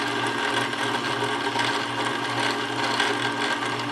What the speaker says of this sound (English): I'm just going to continue winding that bobbin.